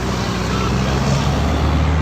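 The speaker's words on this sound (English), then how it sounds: "The trucks are going at a nice pace" Heavy trucks pass on a freeway in a loud, steady, continuous roar of traffic that fills the whole stretch, with no distinct gaps between vehicles.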